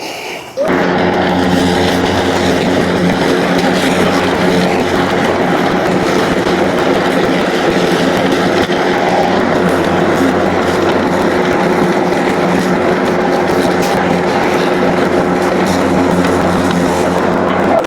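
A Stihl RMA 453 PV battery lawn mower cuts grass across a property with a loud, continuous whirring hum that starts abruptly and holds steady throughout.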